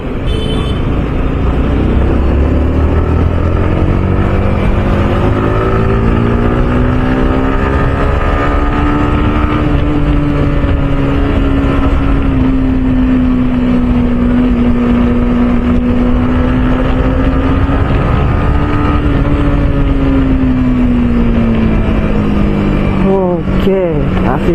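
Steady motorcycle engine drone on a road ride, the pitch rising and falling slightly as it holds a low gear, with wind buffeting and a voice talking over it throughout.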